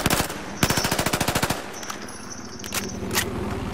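Rapid automatic gunfire rattles in the video game Battlefield 4, a fast burst of shots followed by scattered distant shots and game ambience.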